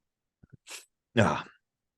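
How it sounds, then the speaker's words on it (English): A single close sneeze, with a couple of faint catching breaths and a sharp inhale before the burst. "Sorry, I have to sneeze for a second."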